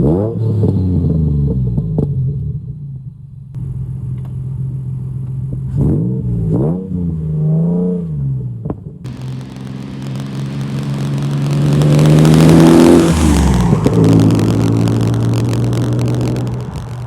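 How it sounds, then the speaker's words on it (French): Exhaust note of an Old English White Morgan Roadster with a 3.0-litre V6, rising and falling in close, steady revs that swell louder toward the end, alone without voices. "La sonorité de l'échappement de cette Morgane est incroyable."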